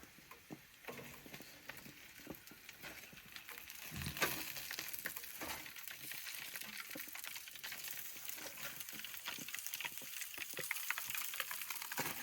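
Baby back ribs sizzling steadily on a barbecue grill as they are turned, a continuous close frying hiss with scattered crackles and small clatters from the flipping, swelling slightly louder partway through; no talking.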